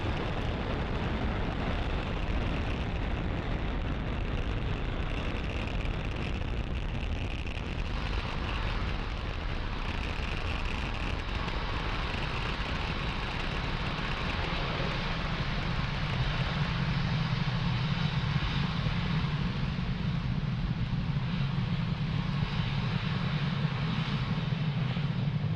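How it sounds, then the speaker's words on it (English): Falcon 9 rocket engines roaring during launch ascent on a Starlink mission, a continuous loud, broadband rumble that holds steady and deepens slightly toward the end, with no voices. "You are watching Falcon 9 accelerate spaceflight's Sherpa LTC-2 and our Starlink satellites out into space."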